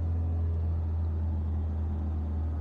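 A Suzuki Sidekick four-wheel-drive engine running at a steady idle, a continuous low rumble with an even hum, close and loud throughout.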